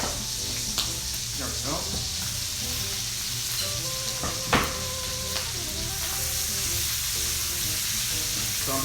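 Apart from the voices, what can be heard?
sausage frying in a pan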